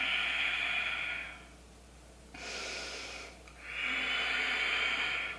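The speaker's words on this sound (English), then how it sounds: "Keep breathing." Slow, deep breaths during a vinyasa yoga pose, a long airy inhale, a pause, a shorter breath, then another long airy exhale, close and unhurried with no talking.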